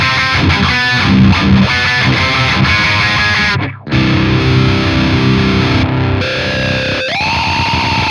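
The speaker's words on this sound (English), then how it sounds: "It's an auto wah." Distorted electric guitar playing through a Line 6 PODxt auto wah effect, its sweeping filter loud and close, with a brief dropout partway and sustained notes toward the end.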